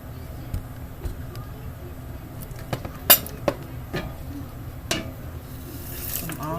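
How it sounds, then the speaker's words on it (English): Chopped vegetables tumble into a pan for cooking pig feet, making scattered clinks and knocks of utensil against metal, with one sharper clatter midway, all close. "I have some veggies already chopped up, and I'm going to put them in my pan."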